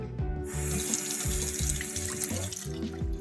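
Makeup brushes held under a running tap, a steady close rush of water with small splashy changes as the bristles move through the stream, no talking.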